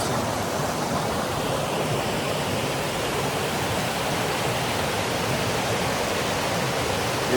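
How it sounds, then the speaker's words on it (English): Water pours steadily at Comer's Creek Falls, a waterfall on a Virginia hike, as a dense, continuous broadband rush that stays loud and even throughout with no talk. "We're here at Comer's Creek Falls. Water's flowing really nice, beautiful."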